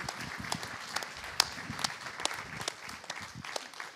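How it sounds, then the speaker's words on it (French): An audience applauding at the close of a conference day, a fairly quiet, even patter of many hands clapping with occasional louder claps, no one speaking over it. "je vous applaudis"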